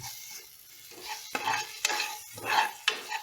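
Ginger garlic paste being stirred in a hot pan, a soft steady sizzle broken by several sharp utensil scrapes and clinks against the pan, close and alone.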